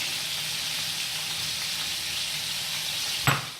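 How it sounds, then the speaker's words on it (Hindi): Yogurt poured into frying onions for a cauliflower and mutton curry sets off a steady loud sizzle, ending in a brief sharp clatter near the close, with no voices. "ये जो प्याज है इसके अंदर मैं ये सारा दही इसके अंदर डाल"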